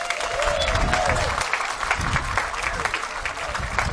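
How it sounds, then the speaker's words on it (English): An outdoor crowd at the Maui Festival applauds in a steady wash of clapping, with cheers and a few whistles mixed in, while a voice can be heard over the clapping. "Ladies and gentlemen, a nice round of applause for Stephen Inglis."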